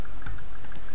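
The hip guard on a Generations Thunderwing Transformers toy gives a few quick, close plastic clicks in about a second.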